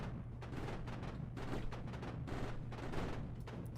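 Salvo turrets fire in Mindustry, a rapid, ragged string of punchy blasts over a steady low rumble, faint and continuous for several seconds with no voices.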